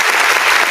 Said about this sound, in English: round of applause for all that for all you guys